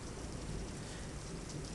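Rain falls during a thunderstorm at night, a dense, steady wash of noise with a low rumbling undertone, continuous and fairly close throughout.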